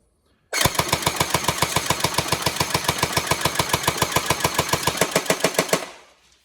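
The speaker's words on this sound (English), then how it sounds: "You see there, it clears that mag pretty quick." A Tokyo Marui AA12 airsoft gun, an upgraded AES, fires full auto in one continuous burst of about five seconds, a rapid, even, loud mechanical rattle that starts abruptly and stops as the magazine empties.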